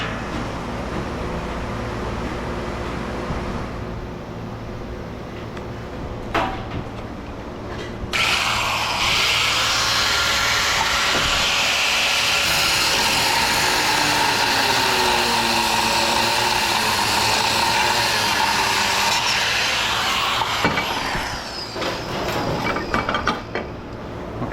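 A power tool cuts through a bolt holding a piece of aluminum extrusion scrap, giving a loud, steady grinding whine that runs for about twelve seconds after a few shorter bursts and clunks, with no talk.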